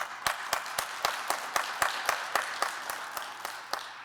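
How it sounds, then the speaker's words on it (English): Sparse, evenly spaced claps ring out in a school graduation ceremony hall, about a dozen distinct slaps in a steady rhythm over a thin background of scattered applause, with no talking. "if you could stand for a round of applause, please"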